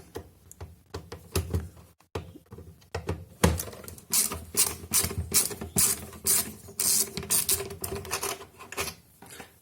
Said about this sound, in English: And then just take the screws out.